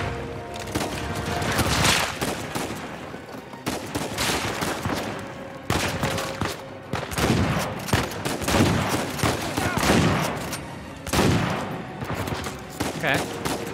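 Sustained gunfire from a firefight in Uncharted 4, set during a robbery at an auction house, with dense bursts of shots repeating across the whole stretch and people talking faintly underneath.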